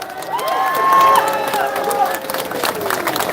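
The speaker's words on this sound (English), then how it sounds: "Kieran Turish and Fabio, give them a big round of applause." A crowd at a protest against violence in Letterkenny cheers and claps, a dense burst of applause that swells and then eases off, with whoops and shouts mixed in.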